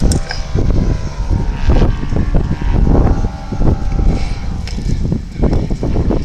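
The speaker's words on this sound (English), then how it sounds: "now opening the throttle to power away" A 55% scale Yak-54 model aircraft engine at full throttle at an air festival, a loud, buzzing roar with a pulsing rhythm and wind buffeting, heard close and continuous.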